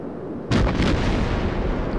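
Naval guns on a small destroyer in World of Warships fire with a sudden loud boom and sustain into a dense rumbling roar of continued gunfire and explosions, without talk.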